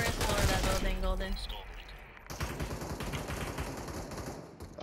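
Gunfire in the Super People battle royale shooter: a dense burst of rapid rifle shots, then a steady rattle of automatic fire continuing alongside game sounds, with players talking throughout.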